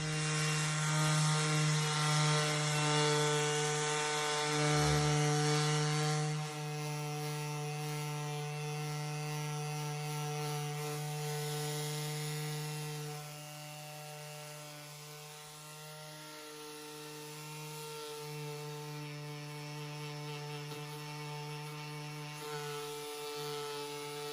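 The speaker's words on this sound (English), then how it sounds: "I'm going to start sanding" A power sander whirs steadily against a wooden countertop with a constant motor hum, its pitch and grinding texture shifting as the pressure changes, no talking.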